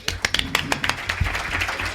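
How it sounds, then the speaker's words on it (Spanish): Scattered, distinct hand claps from a small live audience at a podcasting and gaming congress, starting as sharp individual claps and thickening into a brief, moderate round of applause close by. "Un aplauso para él."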